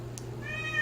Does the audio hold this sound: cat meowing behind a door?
yes